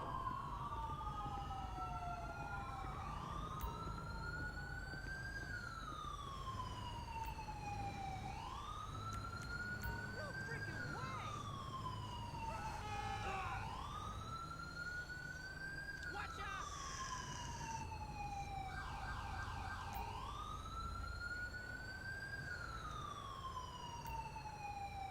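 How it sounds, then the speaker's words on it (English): A police-style siren in the LSPD:FR police video game, its loud wail sweeping up and down in long repeated cycles, with a second siren tone overlapping partway through. "Here comes at least an ambulance."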